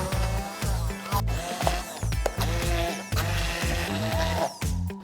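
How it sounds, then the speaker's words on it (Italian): An immersion blender purees cooked pumpkin in a tall beaker for bread dough, its motor whirring in short, repeated bursts with gritty, rattling pulses, close and fairly loud. "Adesso dobbiamo frullarla con un frullatore di immersione."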